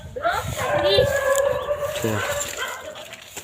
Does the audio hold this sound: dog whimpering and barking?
yes